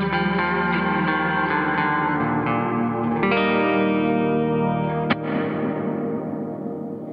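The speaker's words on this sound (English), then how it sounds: "It's just such a nice plate reverb" A guitar passes through a Chase Bliss Dark World dual-channel reverb pedal set to plate reverb, sustained chords washing out into a long, shimmering tail with a fresh strum near the end.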